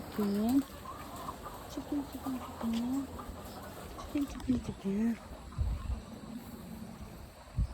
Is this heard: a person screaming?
no